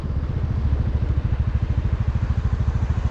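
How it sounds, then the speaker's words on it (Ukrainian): A Honda Dio 110cc fuel-injected scooter engine idles with a steady, low, bassy, rhythmic putter, running continuously and close by with no other sounds. "Такий басистий звук двигуна."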